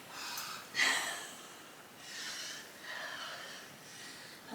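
Heavy rhythmic breathing during a seated kundalini yoga session, a sharp forceful breath near the start followed by softer, steady inhales and exhales, close and fairly quiet with no talking.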